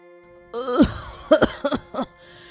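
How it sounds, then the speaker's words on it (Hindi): A person coughs several times, a harsh rasping burst followed by a few shorter coughs, close and fairly loud. "बहुत तेज खांसी हो रही है"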